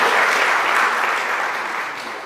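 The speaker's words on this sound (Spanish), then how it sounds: "vamos a darle un aplauso" A church congregation applauds together, a thick, continuous patter of many hands that begins loud and tapers slightly as it goes on.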